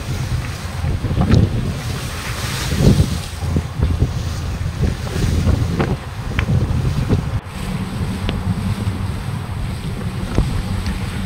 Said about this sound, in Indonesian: Setelah melewati tanjung ini, ombaknya semakin kencang,